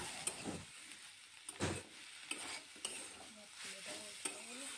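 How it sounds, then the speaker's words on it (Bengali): Banana flower masala sizzles in a pan with sugar while a spatula stirs it, repeated scraping strokes over a steady, fairly quiet frying hiss. "চিনিটা দিয়ে ভালো করে কষাতে হবে।"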